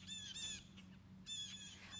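Birds chirping outside, two faint bursts of high repeated tweets separated by a short gap, distant and soft.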